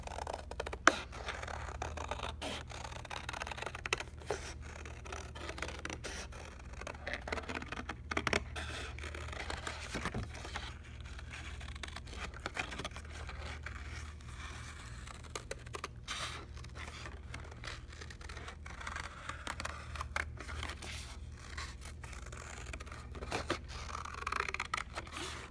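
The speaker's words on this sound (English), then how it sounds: "You can use the big scissors as long as you're careful" Big scissors cutting a car shape out of paper, quiet irregular snips and rustles over a faint steady background hum, with no talk.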